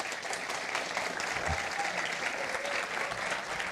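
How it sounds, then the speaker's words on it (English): An audience gives sustained, steady applause after a talk at a tech conference, with dense clapping from a room full of people and a faint voice briefly heard beneath it. "So first, a round of applause for Joseph, please."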